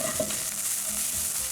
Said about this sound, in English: When I saute onion, I want to hear the sizzle.